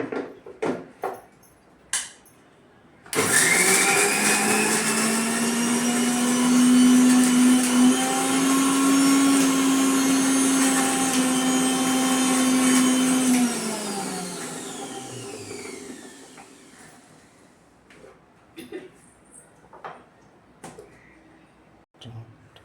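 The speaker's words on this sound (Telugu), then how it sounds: "ఇప్పుడు వీటిని మనం మిక్సీ పట్టుకుందాం, పేస్ట్ లాగా తయారు చేసుకోవాలి." A mixer grinder blends onions and green chillies into a paste, its loud, steady motor whine starting abruptly after a quiet lead-in, running for about twelve seconds, then winding down to silence with a few faint clatters.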